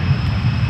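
An Air Wisconsin airliner rolls for takeoff at Toronto Pearson Airport, its engines giving a loud, steady low roar throughout, with no voices.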